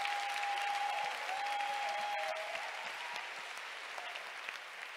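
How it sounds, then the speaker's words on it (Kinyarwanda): A church congregation at a Sunday service applauds steadily and fairly far off, a dense even clapping over the whole stretch with a faint tone held underneath. "Acclamons très fort pour le Seigneur."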